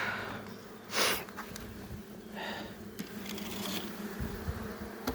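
Low, steady buzzing of many honey bees on hive frames being placed into a hive box fills the background, with a few brief louder swells and soft handling noises, no talking.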